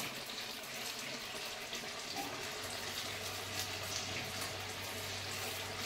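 Bread rolls fry in hot oil with a steady, dense, loud hiss and sizzle that runs without a break. A low hum sits underneath, and no one speaks.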